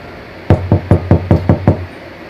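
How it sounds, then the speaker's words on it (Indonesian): Seven loud, evenly spaced knocks on a door in quick succession, sharp and close with a hollow thud, standing alone as a sound effect. "suara ketukan itu pun kembali terdengar, tapi di sini bedanya suara ketukan itu pun lebih kencang daripada sebelumnya"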